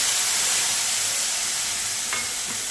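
Ground spices sizzle steadily in hot oil over a low flame with a bright, continuous hiss and a faint stirring clink near the end.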